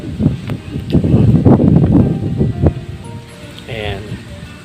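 Gusty wind by a river during fishing, buffeting the microphone in a loud rushing flurry, then easing off, with a person speaking briefly beneath.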